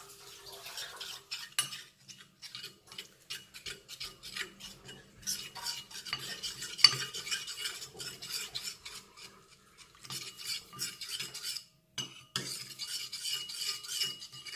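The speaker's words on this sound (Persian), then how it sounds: "یه قاشق آرد و با یه کمی آب اینطوری مخلوط میکنیم" A spoon stirs and scrapes flour and water together in a bowl in quick, uneven rasping strokes, close and fairly quiet, with brief pauses between bursts.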